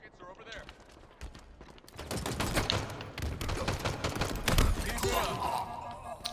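Rapid gunfire from a Halo Infinite multiplayer match, dense bursts of shots crackling loudly over in-game action, with players talking over the shooting.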